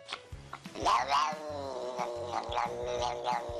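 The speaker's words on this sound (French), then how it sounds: "à miauler bizarrement," A cat gives a strange, drawn-out, wavering meow with a strained, yowling quality, loud and close, lasting a few seconds alone.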